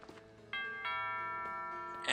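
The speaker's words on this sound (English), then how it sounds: "And the doorbell rang" A video game doorbell in Pokemon Shield chimes twice, a bright two-tone ding-dong with sustained ringing tones that hang on, heard clearly on its own with no talking.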